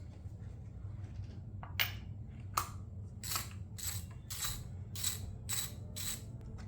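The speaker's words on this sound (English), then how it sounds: "I'm going to remove the spark plug using the 5/8 inch socket with a 3/8 inch ratchet" A 3/8 inch ratchet with a 5/8 inch socket loosening a spark plug on a 2007-2011 Honda CR-V 2.4 liter engine, a series of quiet, close clicking strokes in a steady rhythm over a low background hum.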